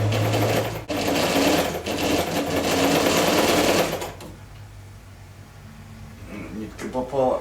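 A German Saalfeld (Knoch) straight-stitch sewing machine stitches a difficult fabric, its rapid mechanical clatter running steadily and loud for about four seconds before stopping, followed by quieter handling noises.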